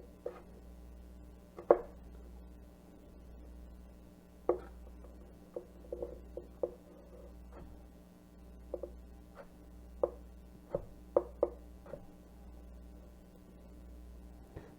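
A knife slices carrots into julienne on a cutting board, giving sharp irregular taps at a brisk uneven rhythm, close and clear over a faint steady hum.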